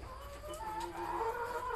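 Laying hens clucking at close range on a small backyard egg farm, a run of overlapping tonal clucks and calls continuing steadily throughout with no voices.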